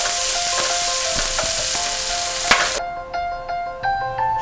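Tomatoes added to a pan for fish curry hiss and sizzle loudly and steadily at close range, with small pops and clinks; the sizzle drops away abruptly partway through, leaving faint tonal clatter.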